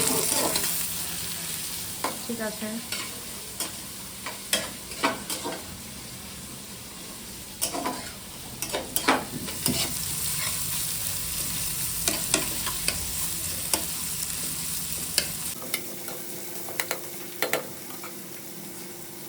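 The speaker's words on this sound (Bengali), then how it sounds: "এখন এতে যাচ্ছে পেঁয়াজ। পেঁয়াজটা একটু ভাজা ভাজা হয়ে গেলে গাজর দেওয়া হবে" Onions fry in a pan in an old age home kitchen in Kolkata, with a constant sizzle and repeated scraping stirs of a utensil. A voice speaks briefly.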